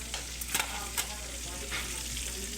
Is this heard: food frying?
yes